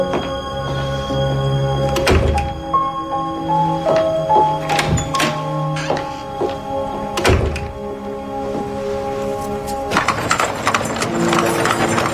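A horse-drawn carriage in a period setting rolls past with loud, steady clip-clopping hooves, several heavy wooden thunks and a continuous low rumble of wheels, close and clear throughout.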